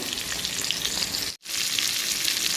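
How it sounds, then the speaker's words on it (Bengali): Pointed gourd (potol) fries slowly in mustard oil over a medium gas flame, giving a steady, dense sizzle that cuts out for a split second midway and then resumes at the same close, even level. "মিডিয়াম আছে জাল রেখে গ্যাসের আমি আস্তে আস্তে করে এটা ভেজে নিচ্ছি"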